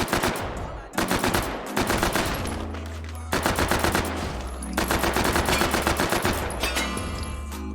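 A submachine gun fires in H3VR, a virtual reality shooting game, in long rapid automatic bursts separated by short pauses, loud and close, with metallic clinks between strings of shots.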